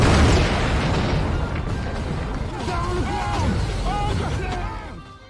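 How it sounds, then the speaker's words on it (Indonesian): A homemade bomb built from a stolen petrol drum detonates in a heavy, booming blast that rumbles and crackles for several seconds, with a voice talking over the tail. "tiba-tiba, sosok misterius tersebut meledakkan bom, yang terbuat dari drum bensin yang dicuri semalam dari warga setempat"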